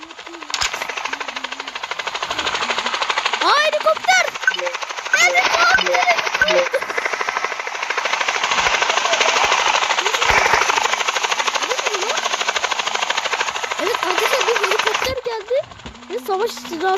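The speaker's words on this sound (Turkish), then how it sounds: "Bu Helikopter sıkıntı." Steady mechanical rotor-like whir of a game helicopter, loud and continuous, with rapid gunfire-like bursts and a voice talking over it.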